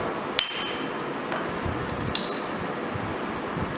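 A single sharp metallic strike of a hammer on a brass drift rings out, followed later by a fainter clink, over steady background hum.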